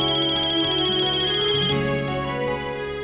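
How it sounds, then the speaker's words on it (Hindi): A melodic phone ringtone plays loudly and steadily, its repeating tune continuing without any talking. "बाप रे, अक्षर का फोन है"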